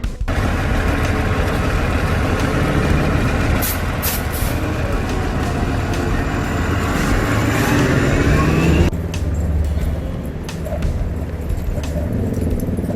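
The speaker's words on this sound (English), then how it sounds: "It's just the sounds of traffic." Busy street traffic rolls past at close range, a steady wash of engines and tires with an air-brake hiss and passing vehicles, loud throughout and easing slightly toward the end, with a brief bark-like sound and no talk.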